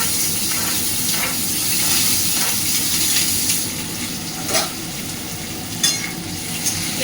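Mustard seeds, curry leaves and green chilli fry steadily in hot oil in a pan, a dense continuous sizzle and hiss with a few brief spatters and scraping stirs, close and fairly loud, no voices.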